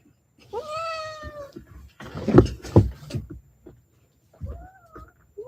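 A cat meows a few times, drawn-out and whiny, with a couple of short bumps or scuffles between the calls, close by.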